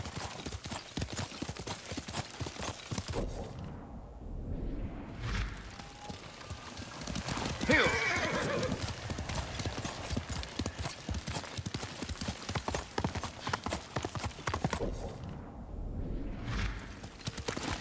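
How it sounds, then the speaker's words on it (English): A horse gallops in the Ghost of Tsushima video game, with steady rapid hoofbeats pounding throughout and brief gaps of calmer sound, plus a faint whinny amid the clatter. "Good horse, Kage."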